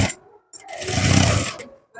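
A sewing machine stitching blouse fabric runs in one steady, fairly loud burst of roughly a second, with a short start before it and brief pauses on either side.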